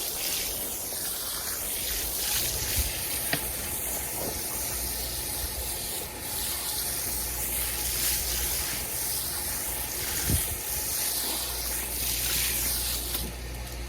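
A garden hose sprays water onto a plant in the garden, a steady broad hiss of spray running continuously and close, with light splashing and no talking.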